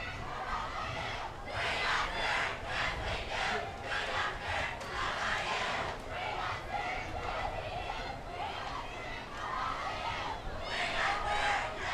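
A high school football crowd of Mustang fans cheers and yells continuously in the stands, a dense roar of many voices swelling and dipping throughout, with scattered shouts rising above it.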